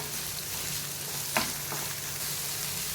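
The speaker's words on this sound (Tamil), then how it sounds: "அதை சேர்த்துட்டு நல்லா வதக்கிக்கோங்க." Three finely chopped medium onions sauté in a pan for Mysore masala dosa, a soft continuous sizzle with one brief stirring scrape midway and no voices.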